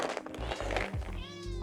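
A cat meows close by in a short, bright cry of about a second, set against a busy, steady background with no talking.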